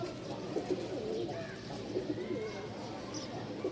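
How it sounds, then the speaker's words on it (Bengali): A pair of black jhak pigeons, a male and a female of the Rajshahi giribaz type, coo softly in repeated low, throaty phrases over a steady background murmur. "দেখেন মাশাল্লাহ খুবই চমৎকার একটা কবুতর জোড়া"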